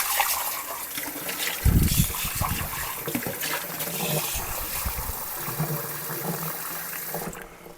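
Water pours steadily from a tap into a greased baking pan, a continuous close splashing rush that shifts in tone as it fills.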